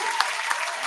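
Brief clapping in a podcast studio, a short burst of hand claps close to the microphone, lasting about a second.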